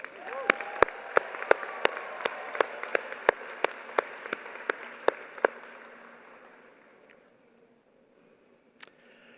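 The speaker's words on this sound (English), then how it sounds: "please help me by giving them a well-deserved round of applause" Convocation audience applauding: a run of sharp, evenly spaced claps over a crowd wash for about five seconds, then fading into near silence with one late clap.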